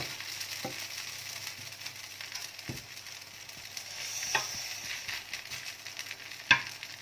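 Grated potato rösti goes back into a frying pan. A quiet, continuous sizzle plays with scattered scraping clicks from the utensil and one sharper knock near the end.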